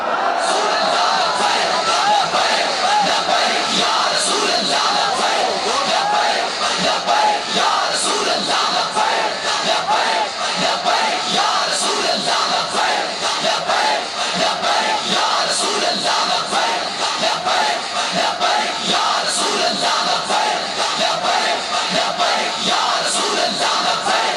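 A crowd at a religious gathering chants Labbaik slogans, with many voices including small children yelling together in a dense, continuous roar that stays loud throughout, with sharp whoops rising above the mass.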